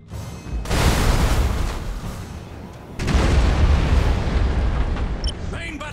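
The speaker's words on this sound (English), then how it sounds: "Main batteries fire." Starship main batteries firing in the Battlefleet Gothic space game: two heavy rumbling salvos, one at the start and a second about halfway through, each a loud sustained roar of booming fire.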